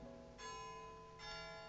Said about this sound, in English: Okay, the music stopped and then now those bells.